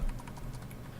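Computer keyboard typing while an HTML web page is being written, a quick run of light, close key taps with no voice.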